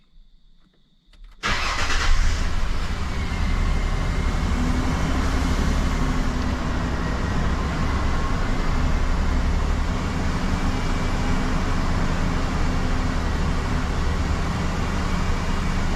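A rebuilt 4.0 engine in a 2005 Ford Sport Trac cranks and catches, then runs at a raised, steady idle for break-in, a loud continuous rumble heard close by for over fourteen seconds.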